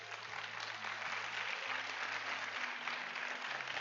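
A church congregation in Bogotá applauds steadily, a soft, even wash of clapping heard from a distance, with faint low tones running underneath.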